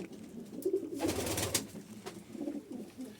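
A pigeon coos softly and nearby in low, rolling phrases, with a brief burst of wing or feather rustle partway through.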